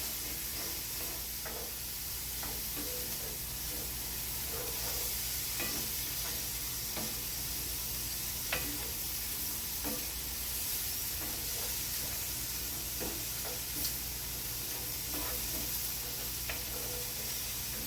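Scallop ingredients being stirred around a hot pan, a continuous close sizzle and hiss with scattered scraping and clicking strokes throughout.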